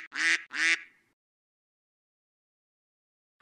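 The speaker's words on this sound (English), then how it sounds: "Oh, it's you, Mama Duck." Two loud, close duck quacks in quick succession, then near silence, with a faint start of another sound at the very end.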